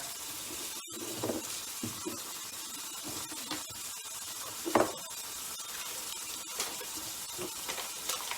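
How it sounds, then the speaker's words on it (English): Utensils being washed in warm soapy water at a sink, a faint continuous wash of water with soft clinks and splashes, heard alone at low level. "And wash it in warm soapy water."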